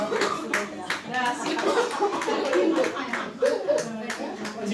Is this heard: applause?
yes